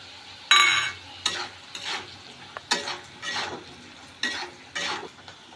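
Fried potatoes with crushed peanuts are stirred in a pan for sabudana khichdi: a series of close, rhythmic scraping strokes of a spatula over a soft sizzle.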